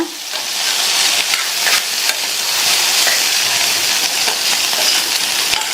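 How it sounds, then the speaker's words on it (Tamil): Beans poriyal with a coconut mixture is stirred in a hot pan: a loud, dense sizzle runs throughout, dotted with light scrapes and taps from the spoon. "சேர்த்துட்டு எல்லாம் ஒன்றா மிக்ஸ் ஆகிற மாதிரி நல்லா கலந்து கொடுத்துருங்க."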